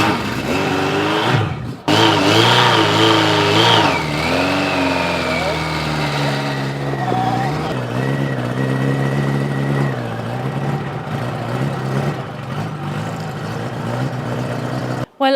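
A custom motorbike with a 1982 Kawasaki 1100 engine and BMW car rear end revs during a ride, the engine pitch rising and falling through gear changes, loud and close, with a voice talking over it.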